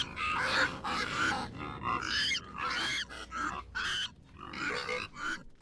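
Pigs in the video game I am Jesus Christ grunt and oink in a steady run of close, loud snorts and squeals with short pauses between bursts, no talk over them.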